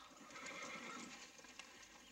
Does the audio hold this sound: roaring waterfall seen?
no